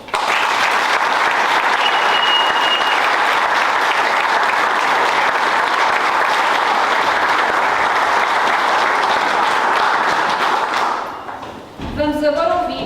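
An audience applauds a philharmonic society at a concert, sustained loud clapping from a full hall holding steady for about eleven seconds before dropping off, followed by a brief burst of other sound.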